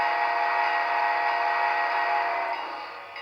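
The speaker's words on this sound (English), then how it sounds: "Whistle." Whistle from a Tsunami sound decoder in an Athearn model Union Pacific Northern #844 steam locomotive, one long, loud chord-like blast that holds steadily and then fades slightly at the end.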